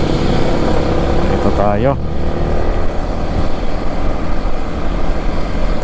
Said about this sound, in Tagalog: mahaba yung pila dito sa stoplight sa mga sasakyan